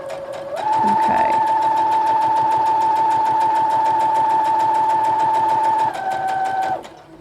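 A sewing machine runs steadily at close range, stitching a doll backpack strap in one long, even whirring burst that briefly changes pitch near the end before stopping.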